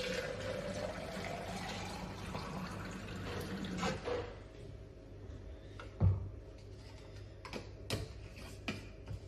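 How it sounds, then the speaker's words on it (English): Water runs from a tap into a shaker bottle, filling it to 700 ml, a rising stream sound for the first few seconds, followed by quieter clicks and knocks of the bottle being handled. "And then I fill that up with 700 mils of water and drink that intra-workout."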